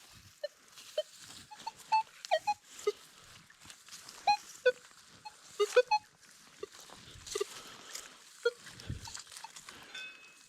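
Scattered pops, clicks and short warbling electronic tones from an X-Terra Pro metal detector over heavy iron, irregular and fairly faint over low background noise.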